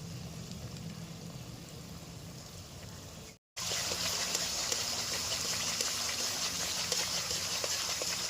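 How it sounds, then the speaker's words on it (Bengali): Water gushes and bubbles steadily into a simmering yogurt gravy for katla fish, briefly cutting out before resuming louder. "গ্রেভির জন্য পরিমাণ মতন জল দিয়ে দেবো।"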